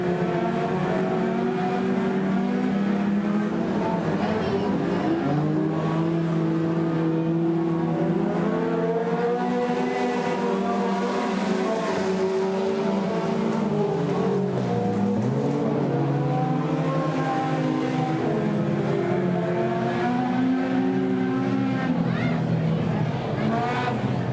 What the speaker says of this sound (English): 3 cars going down into turn number 2